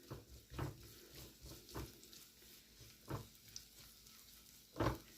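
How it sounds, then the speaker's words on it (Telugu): Sliced onions and green chillies fry in oil in a pan, giving a faint, steady sizzle broken by several soft stirring scrapes spaced a second or so apart. "ఉల్లిపాయలు పచ్చివాసన పోయినంత వరకు వేయించాలండి"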